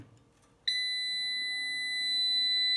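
A hybrid solar inverter, a SAKO SUNON IV 5.6 kW, powers up under repair: a sharp electronic beep starts abruptly and holds as a steady, loud high-pitched tone, with a low hum and fan whir underneath.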